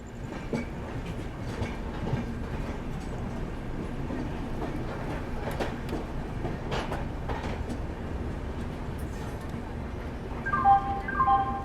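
The Lucknow Raipur Garib Rath Express arriving at Chitrakoot Dham Karwi station: a steady rolling rumble with rhythmic wheel clatter, then a few bright, tonal chimes near the end.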